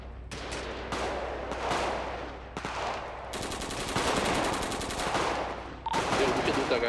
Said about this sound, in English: They're just shooting them over and over again.